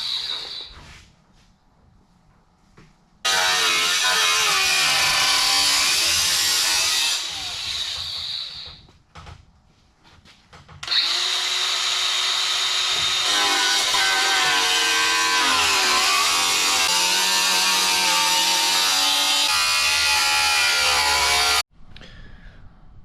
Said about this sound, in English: So maybe take the little saw and just that way.